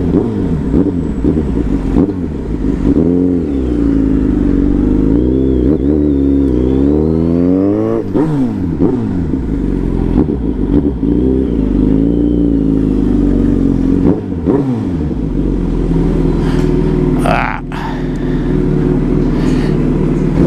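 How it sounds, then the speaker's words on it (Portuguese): A Suzuki B-King motorcycle with a stainless steel exhaust tip revs loudly up close, its pitch climbing and falling in repeated throttle bursts with a deep, throaty exhaust rumble. "É uma ponteira em aço inoxidável, você não mexe em nada na motocicleta e fica um ronco maravilhoso."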